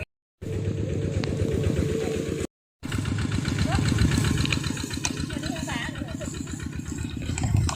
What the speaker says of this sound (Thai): ปัจจุบันนี้มีเสียงรถไถนำเนาะ